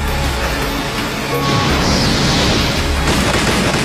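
Doton Doryudan, the earth-style mud dragon jutsu from Naruto, as a dense, roaring rumble of crashing earth and booming impacts that stays loud throughout, swelling into a brighter grinding surge midway.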